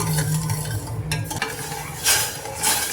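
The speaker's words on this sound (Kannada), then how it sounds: "ಇದಕ್ಕೆ ಕಂಟಿನ್ಯೂಸ್ ಕೈ ಆಡಿಸ್ತಾ ಇರಿ, ಇಲ್ಲ ಅಂತ ಅಂದರೆ ಇದು ಕೆಳಗೆ ಅಂಟ್ಕೊಳ್ಳುತ್ತೆ" A spoon stirring sugar and water syrup in a pan, scraping strokes close up over a soft sizzle, with a couple of brighter clanks toward the end.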